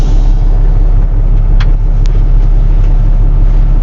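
A 2021 Peterbilt 567 Renegade Classic truck with a 605-horsepower engine idles with a loud, steady low rumble, with a couple of brief hissy releases of air from the brakes heard close by.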